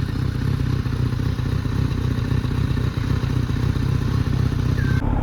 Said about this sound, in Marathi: थोडा रेव करून दाखवतो